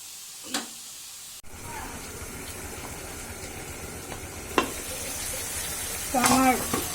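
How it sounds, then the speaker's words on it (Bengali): Eggplant and tomato curry stir-fried in a pan alongside rohu fish, a low, steady sizzle broken by sharp clatters of a spatula scraping, with a burst of clanking near the end. "তরকারিটা কষানো হয়েছে সুন্দরভাবে কষানো হচ্ছে"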